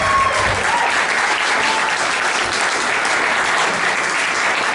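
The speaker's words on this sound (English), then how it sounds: "Now, can we get a round of applause for Millie?" Sustained audience applause at a graduation recital, dense and steady clapping from a full room, loud and continuous throughout without a break.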